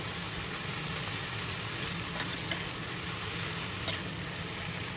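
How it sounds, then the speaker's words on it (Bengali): Mixed vegetables with long beans and ridge gourd sizzle in a pan as they are stirred together, a continuous frying hiss with a few soft scraping ticks, close and moderately quiet. "সমস্ত দিয়ে দেখুন ভালো করে মিশিয়ে নিতে হবে এইভাবে।"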